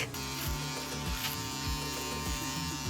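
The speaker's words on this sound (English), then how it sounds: "I get him the best electric face shaver around" A compact dual-blade electric face shaver, with a foil blade and a long hair leveler, hums with a steady close buzz that stays even for the whole stretch, with nothing else heard.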